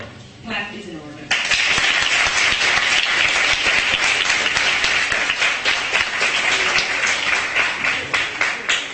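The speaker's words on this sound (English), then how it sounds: "so clap is in order" A large assembly audience bursts into loud, dense clapping after a resolution passes at a model UN session, sustained and even for most of the stretch after a brief spoken opening.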